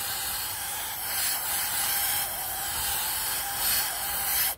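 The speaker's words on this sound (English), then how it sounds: "A little bit of brake cleaner, whatever you want to use to clean it. Blast all the old grease off, the old grime" Brake cleaner sprays in a continuous, fairly loud hiss onto old greasy front brake parts of a Ford Granada Mk2 2.8, pulsing slightly and cutting off abruptly at the end.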